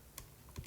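Numbers being punched into a calculator, a few soft plastic key taps in a quiet room, one at the start and a cluster near the end, faint and close.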